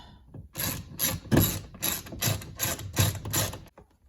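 A ratchet drives 10mm bolts back into the door of a 2007–2013 Chevy Silverado during an inside door handle replacement, giving about eight quick, evenly spaced ratcheting bursts, close and fairly loud, with no talking.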